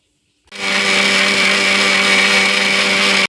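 A kitchen blender suddenly starts and whirs loudly and steadily as it grinds cooked mixed fruit into a purée for jam, its high motor whine holding constant until it stops.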